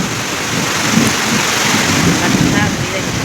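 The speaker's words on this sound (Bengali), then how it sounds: "এত বৃষ্টি আবার পাথরও পড়তেছে, দেখো পাথর পড়তেছে।" Heavy rain with falling hailstones pours onto a house courtyard during a daytime storm, a dense, loud hiss that stays steady and close throughout.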